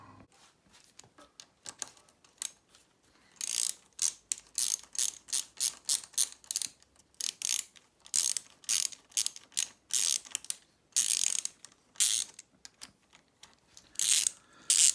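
A ratchet on a Honda Z50 engine top end clicks in quick bursts of repeated strokes, close and crisp, with short pauses between runs as the bolts are tightened.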